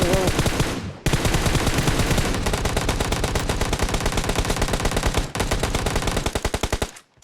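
Rapid machine gun bursts in the video game PUBG, loud and close, firing in long sustained strings with brief pauses between volleys.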